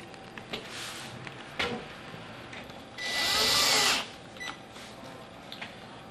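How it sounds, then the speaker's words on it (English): A power driver sends screws into a Rockwood Kitchens lazy Susan base cabinet during assembly, with one clear burst of motor whir for about a second among quieter knocks and handling clatter. "So let's screw those in first"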